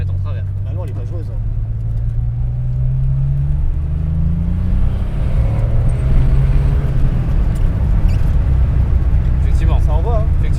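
A Porsche 930 Turbo engine rumbles and pulls hard as it accelerates, its low drone rising in pitch and then settling, loud and close, with voices talking over it.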